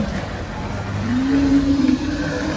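A 2009 Yamaha Sirius Stylish motorcycle engine idles and revs up once, a close steady drone that rises to a sharper tone midway before settling back.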